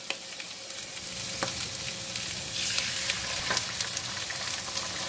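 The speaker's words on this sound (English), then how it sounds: "I'm putting in the oil from this side. I'm going to break 1 egg." An egg frying in oil in a pan beside vegetables for salted fish fried rice, a steady close sizzle with a few sharp crackles and no talk.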